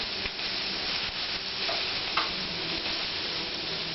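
Hot Italian sausage and peppers sizzle in a frying pan, a loud, steady, close crackling hiss with faint stirring ticks throughout.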